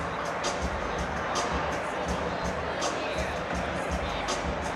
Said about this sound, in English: Love the crowd reactions